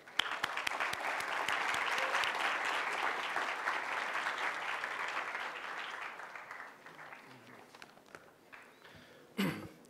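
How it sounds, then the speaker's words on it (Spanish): An audience applauds at a university economics lecture in Chile, a dense, steady clapping that gradually thins and fades out, with a few scattered claps at the end. "Un aplauso, por favor."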